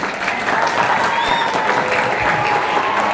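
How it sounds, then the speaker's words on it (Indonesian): Steady crowd applause at a Maulid Nabi Muhammad gathering, loud and continuous throughout, with a faint voice briefly heard beneath the clapping. "Tepuk tangan ya."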